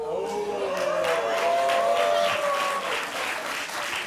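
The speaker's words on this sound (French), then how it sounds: "On s'applaudit." Studio audience applause on a French television talk show, a steady wash of clapping with faint voices and a tonal sound riding over it, sustained for about four seconds at moderate level.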